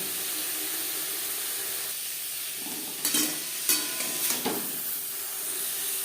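Vegetables for navratan korma cook in a pan with a steady close sizzle and hiss. Around the middle come several brief stirring scrapes and louder bursts. No one speaks.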